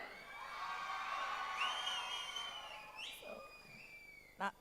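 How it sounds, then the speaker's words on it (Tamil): An audience at a Tamil film event cheers and shouts with scattered high whoops, fairly faint and distant. The crowd noise swells and then fades, and a brief sharp sound comes near the end. Clear applause is not evident. "ஒரு பெரிய கைத்தட்டல்"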